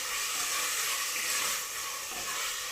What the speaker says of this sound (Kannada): ಟೊಮೆಟೊ ಹಾಕೊಂಡು ಚೆನ್ನಾಗಿ ಫ್ರೈ ಮಾಡಬೇಕು